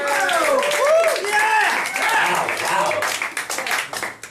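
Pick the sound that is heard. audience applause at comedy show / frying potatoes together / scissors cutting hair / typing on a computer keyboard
audience applause at comedy show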